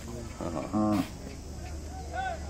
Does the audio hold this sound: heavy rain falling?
no